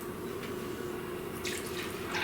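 A cup of water is poured into a mixing bowl for boxed Bundt cake batter, giving a soft steady trickle with a few brighter splashy bursts near the end. Heard close and quiet, with no voices.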